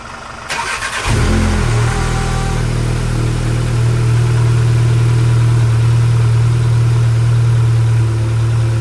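A VW Golf MK7 GTI engine cranks briefly, catches and starts, then settles into a steady, loud idle that runs on alone without any talk.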